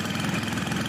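A mini Jeep engine idles close by in a brief, low, rough, pulsing chug, heard alone.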